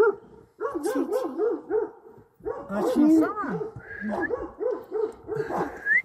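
A dog barks repeatedly at a family of bears in the Bursa countryside, with sharp yips and whimpers in rapid bursts, loud and close, while people talk nearby.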